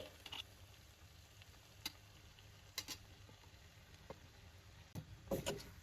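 A soya keema mixture with masala is stirred in a pan over a soft, steady sizzle. Faint scrapes and taps come now and then, and a louder clatter near the end.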